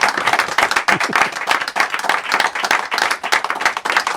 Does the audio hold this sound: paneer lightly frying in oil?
no